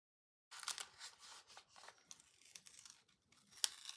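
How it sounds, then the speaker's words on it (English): A sticker is slowly peeled off a paper sleeve, giving soft, uneven tearing and crinkling bursts up close and quiet, ending with a sharp little snap. "it is peeling away the sticker."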